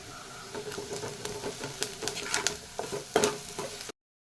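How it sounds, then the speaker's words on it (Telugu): Beetroot frying with curry leaves, chili powder and salt sizzles steadily in a pan under brisk, rattling stirs of a spatula, close and fairly loud, then cuts to silence near the end with no talking. "ఇప్పుడు కరివేపాకు కారం పొడి సాల్ట్ వేసి మొత్తం ఒకసారి కలుపుకుందాం"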